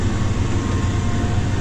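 A Fendt tractor's PTO spins at 1000 RPM, driving a McHale front mower during first-cut silage in Northern Norway: a steady, loud, continuous drone of engine and driveline with a low rumble and a faint whine, no voices.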